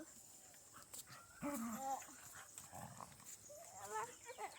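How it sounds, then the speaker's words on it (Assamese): Dogs snarling and yelping at each other in a brief scuffle, with growls and whimpers close by and a voice or two in the background. "কুকুৰ যুদ্ধ"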